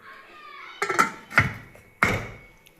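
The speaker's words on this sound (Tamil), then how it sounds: "இப்போ நம்ம மறுபடியும் இதை வந்து மூடி போட்டு கொஞ்சம் நேரம் நம்ம வேக விட்டுடலாம்" A lid set down onto a pot of chicken egg gravy, landing with three separate clanking knocks spread over about a second and a half, close and fairly loud against a quiet kitchen.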